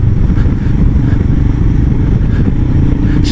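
A 2019 Royal Enfield Himalayan 400cc motorcycle being ridden, a loud, steady close engine drone with constant wind rush, with no talking.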